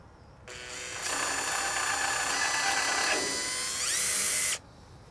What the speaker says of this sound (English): Just support it to the front of the grill face and drill slow and straight.